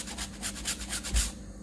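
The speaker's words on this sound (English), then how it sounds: "grate the ginger and do the garlic" Frozen ginger being grated by hand, a rapid series of about eight rough rasping strokes close by, evenly paced and fairly crisp, with no voices.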